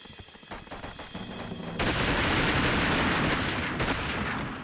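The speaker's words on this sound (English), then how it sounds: "I love mag dumping with these akimbo." Dual akimbo guns being emptied in a rapid mag dump in the shooter SAS: Anti-Terror Force, a dense, continuous roar of gunfire that grows louder partway through and holds steady, with no talking.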